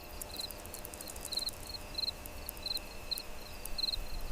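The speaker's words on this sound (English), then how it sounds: "The crickets start their rhythmic," Crickets chirp at twilight on an open savannah, faint rhythmic pulses repeating in short regular bursts over quiet background hiss, distant and soft.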